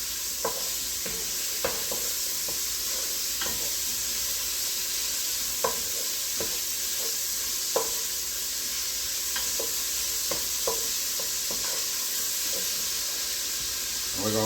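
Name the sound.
bacon rendering and sizzling in a pan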